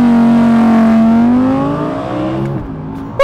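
An Audi R8 V10 Performance in performance mode and dry setting accelerates hard, its loud engine rising steadily in pitch through the gears, with a brief gearshift break near the end.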